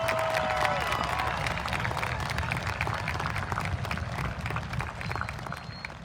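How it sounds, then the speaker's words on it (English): Sustained applause from a high school class of 2021 graduation crowd, a dense, moderately loud clatter of clapping with a few cheers mixed in, tapering slightly toward the end. "Let's give them another round of applause."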